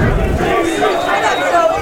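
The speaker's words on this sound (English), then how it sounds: "Home crowd does not agree with the call." A home crowd at a college men's lacrosse game between Salve Regina and Clark roars in disagreement with a referee's call. The loud, sustained crowd noise runs under a commentator's voice throughout.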